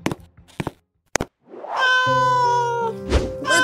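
A cat meows in Roblox Brookhaven: a few sharp thumps and knocks come first, then one long, loud, drawn-out wavering meow close up.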